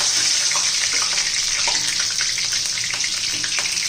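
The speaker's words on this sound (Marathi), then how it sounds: "तेल गरम झालेलं आहे दालचिनी आणि लवंग मिऱ्या घालून घेऊ आता कढीपत्ता घेऊन घेऊ" Cinnamon, cloves, black pepper and curry leaves dropped into hot oil, a loud continuous sizzle and hiss with faint spluttering pops, steady and close throughout.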